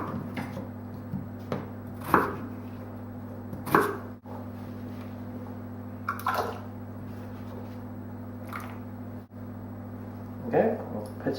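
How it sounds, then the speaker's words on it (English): Potatoes being cut for mash in a kitchen, with several separate knife chops spaced a couple of seconds apart over a constant low electrical hum, and speech present in the background. "peel and cut my potatoes for the mash"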